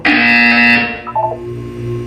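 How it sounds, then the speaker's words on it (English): A loud, harsh electronic buzzer from the video game Portal 2 sounds once for under a second, followed by a few softer electronic tones and a low hum. "You will hear a buzzer."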